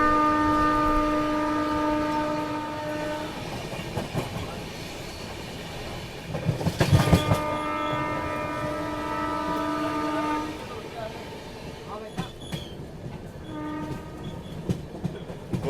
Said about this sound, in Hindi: इसी के साथ हम लोग भूटान रेलवे स्टेशन पहुँच रहे हैं।